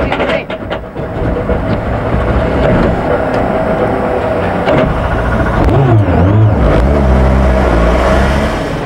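A rally car arriving at the final stage finish of the 2004 Monte-Carlo Rally, driven by François Duval, its engine roaring loud and steady with a rising rev near the end, under a continuous din of spectator noise and voices.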